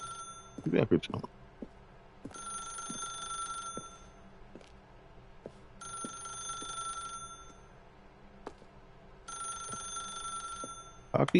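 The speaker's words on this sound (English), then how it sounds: "How can you pick up this phone?" A telephone rings in The Stanley Parable video game, three bursts of a bright electronic bell spaced a few seconds apart, with a person talking over it.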